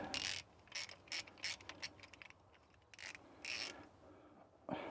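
Ratchet clicking in quick bursts while nipping up bolts on the aluminium top end of a David Brown 990 tractor's three-way hydraulic valve, close and fairly loud, with pauses between strokes.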